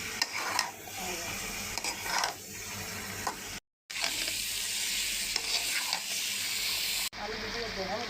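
Water poured into a sizzling pan of meat and prawn curry, a loud crackling hiss and stirring scrapes with a brief dropout midway, a voice speaking at times beneath the cooking noise.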